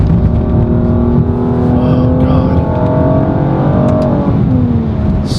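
A 2020 Mercedes-AMG GLC 43 4matic engine revs hard as it accelerates, the pitch climbing steadily toward about 5,800 RPM, then easing off briefly before a sharp burst at the end.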